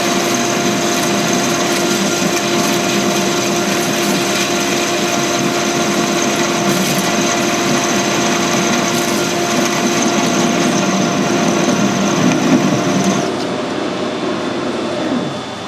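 Lathe screw-cutting fine threads in aluminium, a steady loud machine drone with a constant whine running throughout, dropping slightly near the end as the cut stops.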